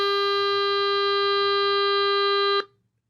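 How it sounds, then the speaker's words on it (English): A steady synthetic buzzing tone with many harmonics, generated from a histogram's shape as a waveform, holds for about two and a half seconds, then cuts off abruptly. "that's how a midterm histogram sounds"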